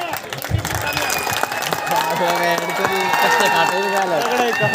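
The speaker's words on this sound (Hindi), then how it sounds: "देखिए जोरदार तालियां इस बच्चे के लिए।" Loud audience applause and cheering at a poetry event at a polytechnic college in Utawad, dense clapping filling the space with crowd voices mixed in.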